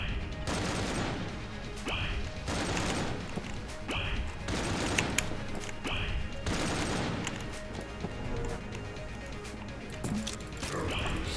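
Gunfire and bullets in Enter the Gungeon, dense bursts of rapid shots in repeating waves about every two seconds, with short bright chimes between them, loud and close throughout.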